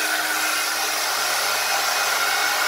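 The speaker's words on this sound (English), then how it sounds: "flip it the other way" A Revlon One-Step hair dryer and volumizer blows in a loud, steady, unbroken whoosh from start to finish, close to the microphone.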